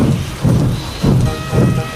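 Stormy weather in a Thomas and Friends wooden toy railway remake: loud, steady rain with rolling thunder rumbles that swell in repeated waves, one after another, with no voices over it.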